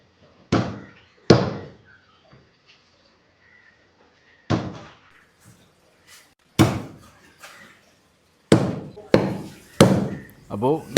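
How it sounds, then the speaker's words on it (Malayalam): A large kalanchi (barramundi) being chopped with a heavy blade, several loud, sharp thwacks spaced a few seconds apart, then a quicker run of close chops toward the end, with faint background noise between strikes. "ഇതുപോലത്തെ ഒരു വലിയ കളഞ്ചിയെ കട്ട് ചെയ്യുന്ന വീഡിയോ ആണ്"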